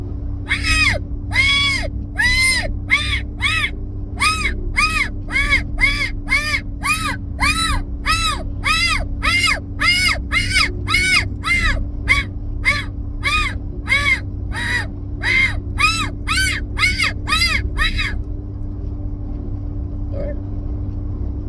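A hand-blown diaphragm predator call imitating a cottontail and jackrabbit in distress gives a long series of short, raspy, wailing squalls in steady rhythm, loud and close, then stops.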